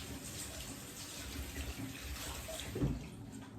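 A Tojiro DP 170mm santoku knife is rinsed under a running tap after sharpening. A steady, fairly quiet stream of water splashes continuously, with a slightly louder splash near the end.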